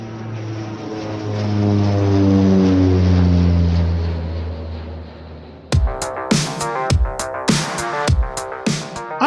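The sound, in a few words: propeller airplane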